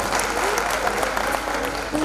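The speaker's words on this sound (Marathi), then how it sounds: "यासाठी आपण सर्व रसिकांसाठी आपणच एकदा जोरदार टाळ्या वाजवूया." A concert audience at a Marathi literary and poetry event breaks into sustained, dense applause, loud and steady throughout with no pauses.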